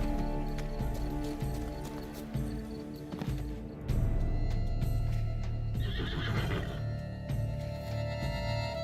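A horse in The Witcher 3: Blood and Wine gives a loud, close whinny over steady hoof clip-clop and a game music bed, the neigh rising and fading across several seconds.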